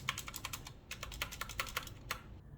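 Typing on an MSI Vigor GK50 Elite mechanical keyboard, a quick run of sharp, close clicks in an uneven rhythm, with a brief pause near the end and no voices.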